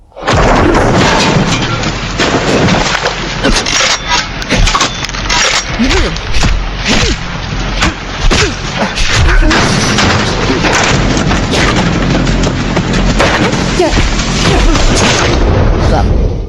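Loud, continuous barrage of booming explosions and blasts from the action film Fury 12 Hours, dense and overlapping for the whole stretch, like a chaotic battle scene.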